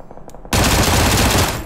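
A 30-round gun fires in a video game, a loud sustained burst of rapid automatic gunfire that starts abruptly after a short quieter lead-in and continues densely to the end.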